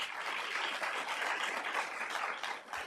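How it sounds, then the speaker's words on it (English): A crowd applauds at Sunnyvale's 2024 State of the City event after the city's new homeless service manager is introduced. The clapping is a steady dense patter at moderate distance and fades slightly toward the end. "give her a round of applause"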